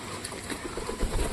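A flock of pigeons feeding on mustard seeds coo softly and shuffle nearby, a faint, brief burst of bird sounds with no talking.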